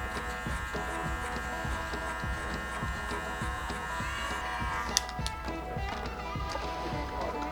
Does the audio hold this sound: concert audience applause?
no